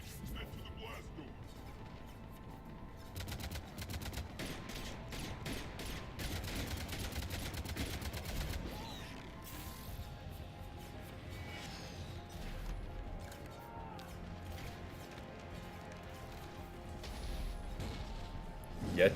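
Ship cannons firing in Mass Effect: Legendary Edition, rapid bursts of booming shots and crashing impacts at low level, mixed with game effects and someone talking over the action.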